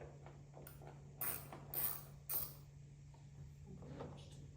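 A ratchet from a Harbor Freight tool set turns a 7mm bolt on the fender of a 2017-2022 Ford F250/F350 truck, giving several quick clicking bursts over a low steady hum, fairly faint and with no talking.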